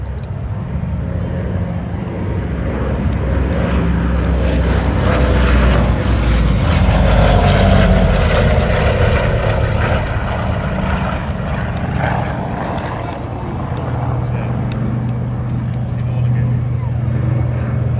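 A Douglas DC-6 propeller airliner, the only flying example in Europe, passes over the Duxford airshow, a loud continuous piston-engine drone that swells and then eases, with a voice talking over it.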